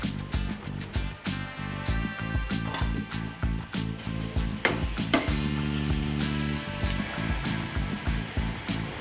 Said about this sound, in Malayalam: ഇനി ഇതെല്ലാം കൂടെ അതിനകത്തോട്ടൊന്ന് മിക്സ് ചെയ്ത് ഒന്ന് ഇളക്കി കൊടുക്കാം